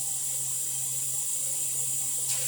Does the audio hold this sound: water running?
yes